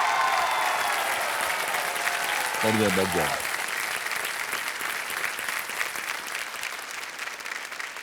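Sustained, loud studio-audience applause on the KBC game show fills the clip steadily, with a brief spoken phrase from the host partway through.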